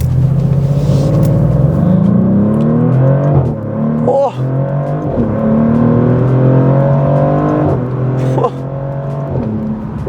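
A Maserati GranTurismo Trofeo accelerates hard, its engine note climbing through several gear changes with brief dips between shifts, loud and close from inside, while a person exclaims briefly.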